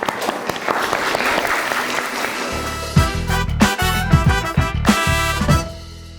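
Audience applause at a school arts event, with clapping rising to a crowded, loud patter before giving way to rhythmic, tonal sounds.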